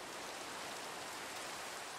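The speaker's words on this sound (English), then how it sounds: "Oh, crap, it's raining." Rain falls in a video game as a steady, even hiss of dense drops that holds unchanged throughout, with no voices over it.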